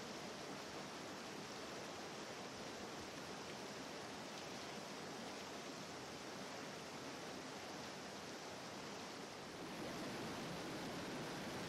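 Steady rushing water of a mountain stream, a broad continuous hiss with no breaks, loud and close throughout, alone without voices.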